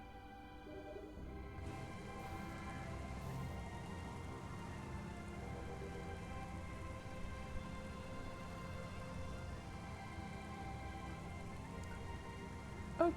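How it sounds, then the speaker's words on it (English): Rain droplets spattering on the visor in Metroid Prime Remastered, a dense steady patter of rain that starts softly then fills in and holds at an even level, with no voices. "those water effects are actually pretty good. Like the rain droplets hitting the power beam and sliding off, sometimes hitting the visor, running down the visor"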